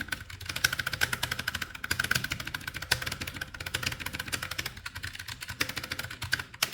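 Rapid, steady clacking of keys on a ROCCAT Vulcan II Mini Air mechanical keyboard, close and crisp, continuing throughout with no talking.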